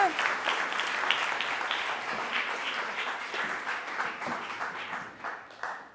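Audience applause at a fashion show in Limoges, many hands clapping in a steady wash that holds for several seconds and then gradually thins and fades toward the end.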